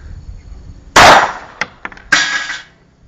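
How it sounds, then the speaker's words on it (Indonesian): Gunfire from a gun held in one hand: one loud sharp crack followed by a few quick fainter snaps and a second bright burst, close and harsh. "kita tengok macam mana kita tembak sebelah tangan"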